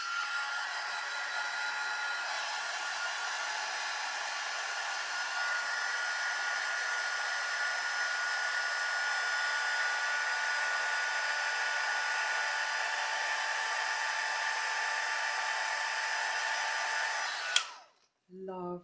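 A steady, loud high-pitched whirring of a heat gun used for heat embossing blows continuously for most of the clip, then cuts off abruptly with a short clatter.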